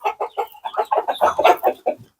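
Chickens and roosters cluck in a quick run of short, close, fairly loud calls, about a dozen bursts in just over two seconds with no talking.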